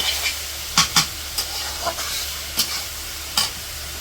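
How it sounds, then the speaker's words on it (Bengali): Leafy radish greens crackle and hiss in hot oil, broken by a handful of sharp taps and scrapes as a spatula moves them around the pan. "এখন শাকগুলো ভালো করে ভেজে নিব তেলের মধ্যে"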